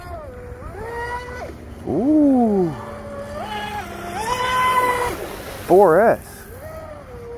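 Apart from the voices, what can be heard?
Oxidean Oxi-digger RC outrigger boat running on water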